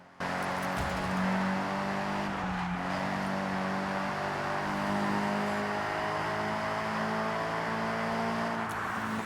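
A car races in Forza Horizon 6 during a winter festival playlist event: a steady, loud engine drone with gear shifts and rising revs runs the whole time, with no talking.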